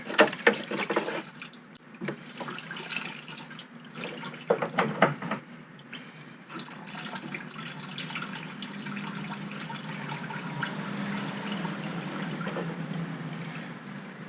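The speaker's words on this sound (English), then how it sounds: "let's make sure we spill all that back into the tank" Fuel from a Chevy Caprice police car's tank being poured back in, heard as a steady close trickle and splash of liquid after a few clunks of handling.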